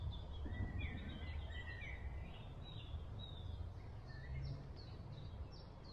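Birds sing in spring woodland, several chirps and warbling phrases scattered at moderate distance over a steady low rumble of background noise, with no voices.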